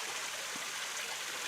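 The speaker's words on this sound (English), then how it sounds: "it's not a great volume of water coming down these falls" A small, low-volume waterfall spills over rocks, giving a continuous close broadband rush of flowing water with no voices.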